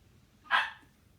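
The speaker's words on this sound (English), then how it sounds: "why are you barking?" A Cocker Spaniel lets out one short, sharp bark against quiet surroundings, with no talk.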